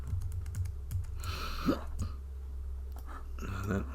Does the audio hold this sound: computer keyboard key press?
yes